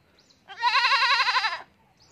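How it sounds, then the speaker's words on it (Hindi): A young goat on a village homestead gives a single drawn-out, wavering bleat lasting about a second, loud and close, with quiet surroundings before and after. "ये हम लोग का बकरी है, अब बड़ा होने लग रहा है"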